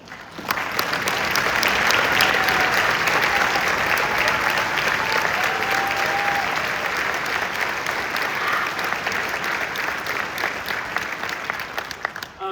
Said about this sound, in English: would you stand up and let us all clap for you, please?